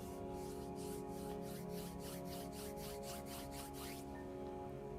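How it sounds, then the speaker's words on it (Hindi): Palms rubbed briskly together, a close, soft rhythmic swishing of about a dozen strokes over steady low background hum, stopping abruptly toward the end. "दोनों हथेलियों को आपस में रब कर लीजिए।"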